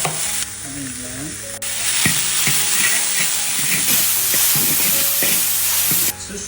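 Minced pork with ginger, garlic and green and red chillies stir-frying in a hot wok for homemade scallion meat pies, a loud steady sizzle with scraping stirs and clinks of the spatula throughout.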